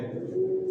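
Pigeons in a new loft, birds sitting on eggs, give a brief, low, steady coo lasting under a second against a soft background murmur.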